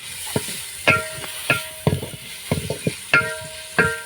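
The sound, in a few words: onion and bay leaf frying in ghee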